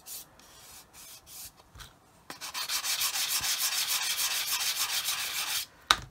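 A coarse sanding stick rubs lightly over filler on a plastic model kit of a 1/48 R-11 fuel tanker, a steady dry scratchy rasping of brief strokes and then a long continuous run, close and fairly quiet.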